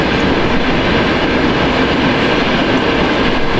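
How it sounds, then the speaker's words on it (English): A train rumbles past loudly and steadily, a dense continuous roar of wheels on track filling the whole stretch with no voices. "Mind the train."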